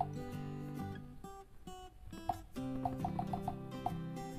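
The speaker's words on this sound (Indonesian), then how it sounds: "ketika saya coba ketuk atau pilih menu-menu yang ada di sini ataupun menekan tombol kembali, dia akan berbunyi." Soft tap sounds from a Realme 10 phone's touchscreen: a short run of small, quick plinks, faint over quiet background music.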